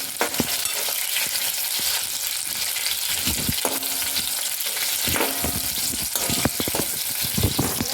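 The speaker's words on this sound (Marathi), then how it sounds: "मिरच्या व्यवस्थित भाजून घ्यायच्या" Slit green chillies roasting in a hot pan, a loud continuous crackling sizzle broken by repeated sharp clinks and scrapes of stirring, heard up close with no voices.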